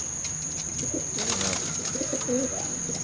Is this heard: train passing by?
no